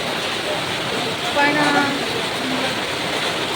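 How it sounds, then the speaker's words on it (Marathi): Heavy monsoon rain pours steadily in Chiplun, making a dense, even hiss throughout. A voice speaks briefly partway through. "पाऊस खूप पडतो."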